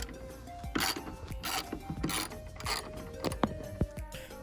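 An 8mm socket ratchets and rasps while loosening tail light screws on a 10th-gen Honda Civic, with repeated clicking pawl bursts, scraping and sharp taps up close, quiet and irregular.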